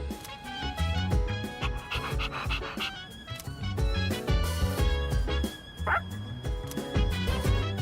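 Kuromaru, the dog from the video game Persona 3 Reload, pants in steady, breathy rhythm throughout, set against continuous game music with no voices.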